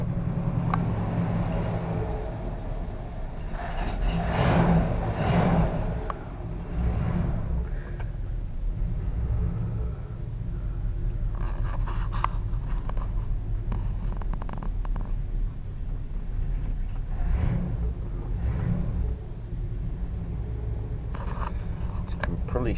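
A 1956 Oldsmobile Rocket 88 V8 idles on a winter cold start, a steady, low, purring rumble that holds evenly throughout at close range.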